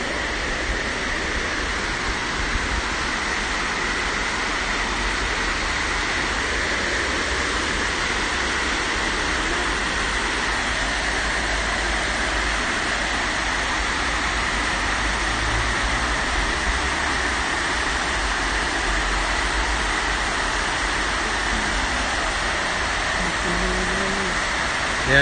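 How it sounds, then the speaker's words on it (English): Water pours steadily over a weir along a park nature walk, a loud, continuous broadband rush like a waterfall with heavy flow, holding steady and unbroken for the whole stretch with no talk. "Let's get a few seconds of this water sound."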